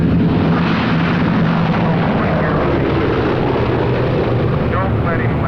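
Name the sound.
Boeing B-17 Flying Fortress aircraft flying in to land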